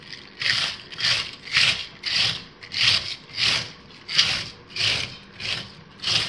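Cabbage is grated by hand for sauerkraut in a rhythmic series of about a dozen scraping strokes, each a bright, crisp rasp, evenly paced and close.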